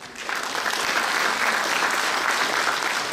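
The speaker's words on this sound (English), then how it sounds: "please give them a round of applause" An audience at the opening ceremony of a 2018 Chinese cultural festival in New Zealand applauds: sustained, dense clapping from a sizable crowd, steady and fairly loud for a few seconds.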